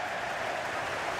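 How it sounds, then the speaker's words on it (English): Stadium crowd noise from the football video game EA FC 24, a steady broadband roar of many voices cheering throughout a short stretch, with no clear talk on top. "Well, just listen to this crowd."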